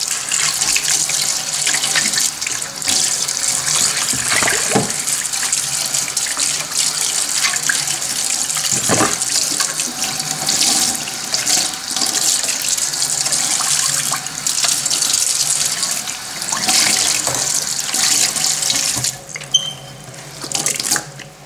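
Kitchen tap water running steadily into a sink while soap is rinsed off, a loud continuous gushing stream lasting the whole stretch with brief shifts as hands move under it.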